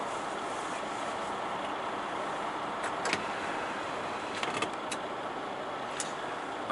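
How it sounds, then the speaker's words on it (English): A yard locomotive rolls along a rail line, giving a steady broadband rumble with a few sharp metallic clicks and clanks scattered over about seven seconds, heard at moderate distance with no talking. "I'm thinking that this is like a yard locomotive."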